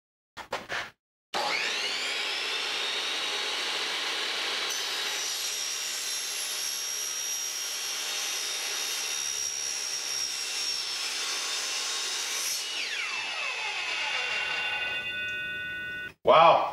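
A power saw cuts through an upper intercooler pipe with a loud, sustained, high whining buzz that holds steady, then drops in pitch and winds down as the cut finishes; short knocks come before and after.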